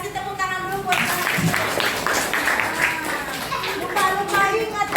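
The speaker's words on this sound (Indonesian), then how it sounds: "Kasih tepuk tangan dulu buat kalian." Students clapping in a classroom, a burst of group applause with a teacher's voice and children's talk mixed in, continuing at moderate loudness throughout.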